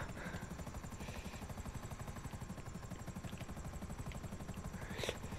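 Helicopters in the video game GTA 5 chop with a steady rapid rotor beat, fairly faint and continuous, with brief game sound effects scattered on top and no talk.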